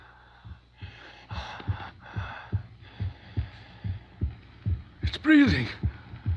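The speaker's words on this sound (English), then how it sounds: "It's breathing." Slow rhythmic thumping like a heartbeat, close and steady, with rasping breaths and a sharp gasp near the end, in a Frankenstein radio drama.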